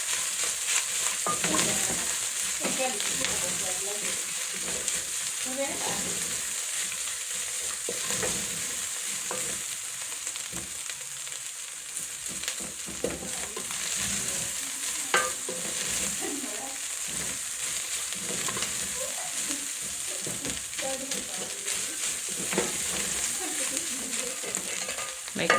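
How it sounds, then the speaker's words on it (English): Onions fry in a pot of oil as the base of a homemade minced beef stew, a soft, continuous sizzle with scraping stirs scattered throughout and no talking. "It's time to add our onions."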